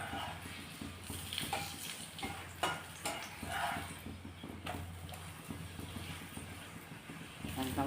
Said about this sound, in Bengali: দেখুন এবার আমি এতে ভাজার জন্য তেল দিলাম